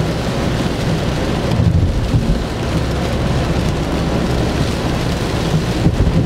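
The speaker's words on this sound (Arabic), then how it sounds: "ما شاء الله امطار امطار خرافيه" Heavy rain pours down in Jeddah in a dense, constant roar of drops hitting surfaces that stays loud and unbroken throughout.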